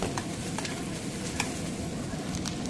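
Radish, radish greens and onion sautéing in a pan for a chutney, a continuous close frying hiss with light stirring scrapes and small pops throughout, no voices.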